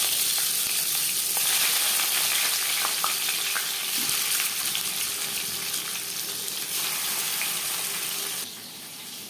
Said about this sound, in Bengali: 3 চামচ সর্ষের তেল গরম করে নেওয়ার পর দিয়ে দেব লবণ হলুদ মেখে রাখা মাছ